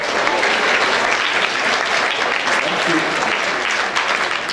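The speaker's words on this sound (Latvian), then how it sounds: "Aplausi!" Loud, dense applause from an audience at a Latvian summer festival event, a steady continuous wash of many clapping hands filling the whole stretch without pause.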